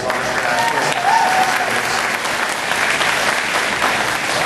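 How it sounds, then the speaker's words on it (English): Applause at a horse county fair awards ceremony for a novice walk-trot class, a steady, sustained wash of clapping from a crowd, fairly loud throughout. "applause for our novice quarterback."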